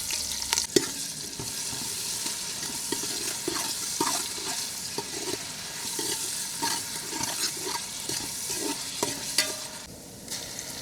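Sliced onions and curry leaves fry in a pan with a constant crackling sizzle, punctuated by regular spatula stirring knocks throughout, no speech.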